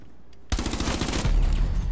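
Rapid automatic gunfire from Rainbow Six Siege erupts abruptly after a half-second of quiet, a loud, dense burst of shots with heavy low-end impacts continuing to the end.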